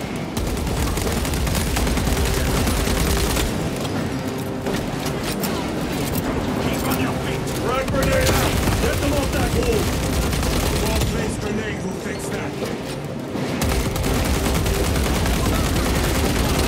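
Dense gunfire and rapid bursts from Warhammer 40,000: Space Marine 2 rattle continuously at high volume, with loud game combat noise and shouted voices layered over the shooting.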